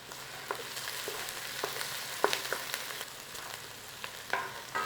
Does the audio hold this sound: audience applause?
no